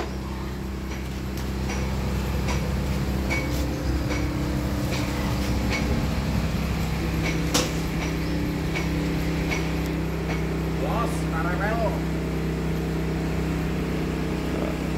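A homemade corn sheller machine built from scrap parts runs with a steady motorized hum and drone, broken by faint clicks and rattles, mostly alone with little talk.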